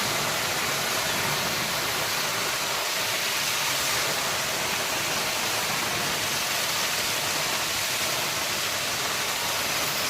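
Steady, dense rushing of heavy rain and flowing water, an unbroken wash of noise at even loudness throughout, with no voices.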